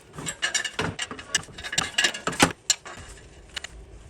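A wrench works loose a small plastic plug on a 2007 Lexus RX350, with a close, irregular run of metallic clinks, ticks and rattles that thins out to a few sparse taps at the end.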